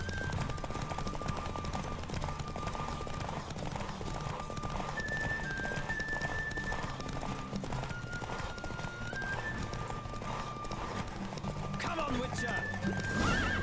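A horse gallops in a race in The Witcher 3, with rapid clip-clop hoofbeats and neighing over game music, while someone talks throughout.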